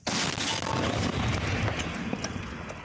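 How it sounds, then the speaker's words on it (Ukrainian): A single heavy, booming tank cannon shot fired from a concealed position, its broad rumbling body lingering and slowly fading over a few seconds. "Постріл!"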